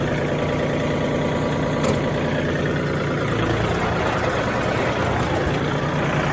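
A second-hand Nasa rotary tiller engine, 1.65 size, runs steadily at close range, a continuous loud rumbling drone with no speech over it.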